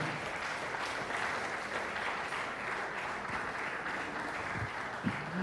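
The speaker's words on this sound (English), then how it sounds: "Come on, that's a good place to clap." Sustained applause from a conference audience, steady clapping filling the room for several seconds with no voices over it.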